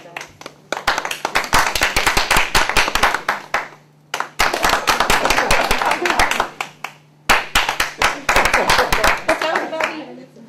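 An audience claps in three separate bursts to vote between contestants at a live event, sharp close hand claps in each burst with brief silences between them.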